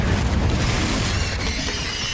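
The Confringo explosive spell in the Hogwarts Legacy video game, a loud, dense, rumbling blast that fills the whole moment.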